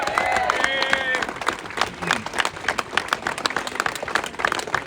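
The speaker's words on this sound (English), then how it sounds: "Give them a big round of applause" Crowd applause for veterans at a farmers' rally, scattered clapping from an audience, with a brief voice and whistle-like tones near the start, then irregular claps continuing at moderate loudness.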